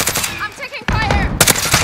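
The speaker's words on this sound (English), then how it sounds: "I'm taking fire" Gunfire in Call of Duty Modern Warfare, sharp bursts of automatic shots crackling in clusters at close range, with brief gaps, under scattered speech.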